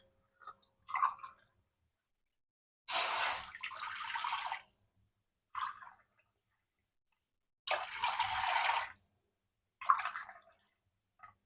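Water is poured from a glass into a cooking pan holding black gram dal, arriving in several separate splashing pours with quiet pauses between them, close and fairly soft.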